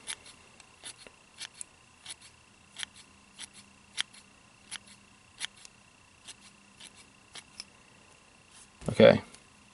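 Scissors snip repeatedly while trimming a zonker sculpin fly on the tying vise, a steady series of light, close clicks spaced about half a second apart, with one louder rustling handling noise near the end.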